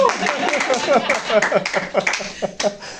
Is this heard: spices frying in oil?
no